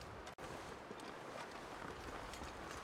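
Wind blows outdoors in the survival game The Long Dark, a faint, even rush of air that holds steady apart from one brief dropout near the start.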